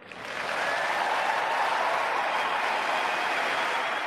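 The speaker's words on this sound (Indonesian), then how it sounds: "Hari itu tepuk tangan membahana, para penonton berdiri untuk Sarah." A stadium crowd at Wimbledon 2021 gives a standing ovation to vaccine scientist Sarah Gilbert, producing dense, sustained applause that swells in and holds steady and loud throughout.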